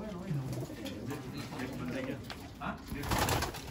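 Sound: pigeons cooing at a pigeon center loft

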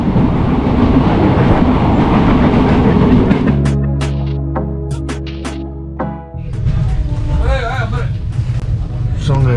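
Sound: inside a moving passenger train

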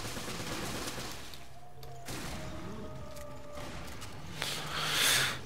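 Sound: Magnum gunshot from video game Resident Evil: Revelations

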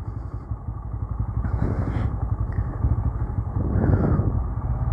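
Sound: motorcycle riding off-road

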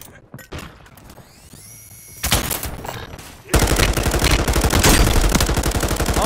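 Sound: M13 machine gun firing in a video game

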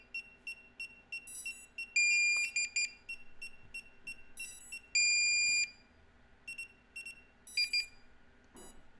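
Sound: drone remote controller pairing beeps

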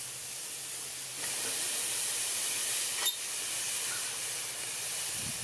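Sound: ribeye steaks sizzling on a hot grill

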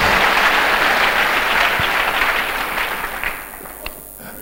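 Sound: church congregation applauding

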